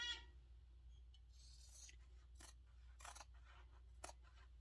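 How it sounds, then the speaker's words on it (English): Sharp scissors trim a sewn fabric seam allowance down to about 1/8 inch for a small fabric sticky-note case, giving a few crisp, close snips spaced across a quiet background with no talking. "I trim it down to about, almost 1/8 of an inch on both sides"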